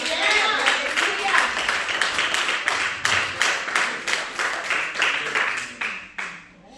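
Congregation at a religious service applauding, a dense burst of clapping that stays loud, then thins and fades out toward the end.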